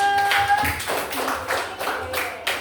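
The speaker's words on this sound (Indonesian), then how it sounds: "Kasih tepuk tangan dulu." Classroom audience clapping for a student group presentation, a short burst of scattered hand claps with uneven rhythm, fairly close, fading in and out over a faint background murmur.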